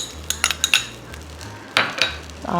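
A hot pan for tomato pachadi gets mustard seeds, heard as a series of metallic clinks and taps of a spoon on the pan over a low hum, close and without talk.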